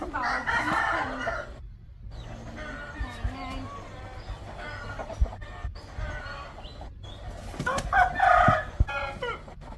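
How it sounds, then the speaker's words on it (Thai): Fighting rooster at a Thai cockfighting farm crowing loudly twice, once near the start and again toward the end, with clucking and farm background noise between. "นี่เป็นไก่สวยนะครับเนาะ ไก่ที่อ่าเตรียมลงสนาม"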